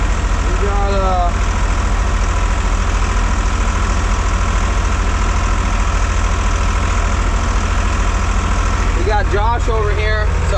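A 4840 tractor engine runs at the 2024 MacFadden Plow Day, a loud, steady low rumble that never lets up, with brief voices or tonal sounds rising over it near the start and again near the end.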